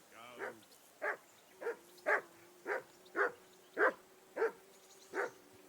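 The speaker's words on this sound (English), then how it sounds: "I assume you can hear that damn dog of yours barking." A dog in the video game Kingdom Come Deliverance 2 barks repeatedly, about nine evenly spaced, moderately loud barks in a steady rhythm, with no talk over them.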